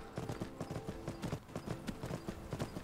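Horse hooves clip-clop steadily in Skyrim, a brisk, even rhythm of hoofbeats heard close and prominent over a dense background of game ambience.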